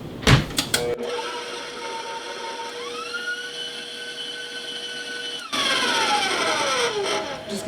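A blender whirs up keto peanut butter mousse with a loud, steady motor drone that shifts pitch as it speeds up, cuts out briefly, then roars back louder; a short clatter precedes the run.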